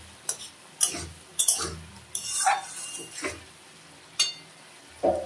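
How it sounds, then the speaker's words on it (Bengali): A utensil scrapes and clanks around a pan as homemade cumin powder is stirred into a potato and egg curry, with about eight distinct, irregular stirring strokes over a faint sizzle. "এখন ভালো করে নেড়ে দেবো।"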